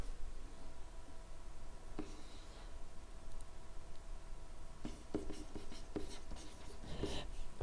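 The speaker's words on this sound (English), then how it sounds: "let me write that nicer" A marker writes on a board during a math lesson, producing soft scratchy strokes and light taps over a steady background hiss, with no talking.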